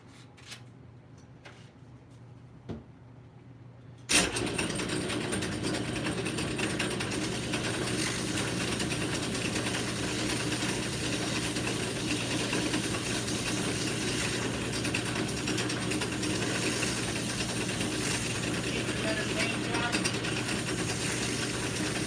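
Sandpaper pressed against a part turning on a lathe, a steady dense rasping whir that starts abruptly after a few seconds of near quiet and holds evenly, close and fairly loud.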